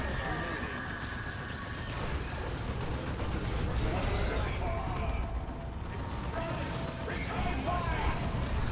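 Lascannon shots in a Dawn of War II: Retribution 3v3 match: dense, rumbling blasts and battle noise run steadily under continuous commentary.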